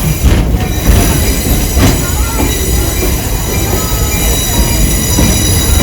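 A train at Stone Mountain, Georgia, rolls past close by with a constant loud rumble and high-pitched squealing wheels throughout.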